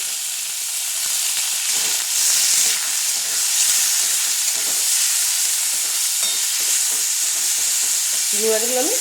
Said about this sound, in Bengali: চিংড়ি মাছগুলো আমি ভেজে নেব।